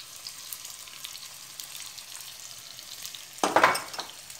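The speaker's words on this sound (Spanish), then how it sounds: "aquí tengo ya la cazuela caliente para guisar la carne" Ground meat cooks in a hot clay pot with a faint, steady sizzle. Near the end comes a louder burst of stirring and scraping.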